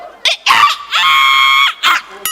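A comedian imitates a chicken on the Marathi comedy stage show Maharashtrachi Hasya Jatra, voicing a long drawn-out squawking cluck between shorter shrill bursts, loud and close.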